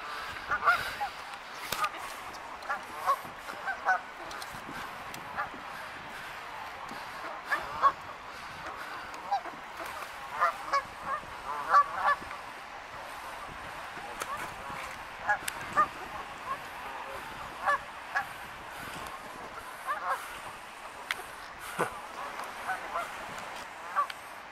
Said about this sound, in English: Lots of birds on the park.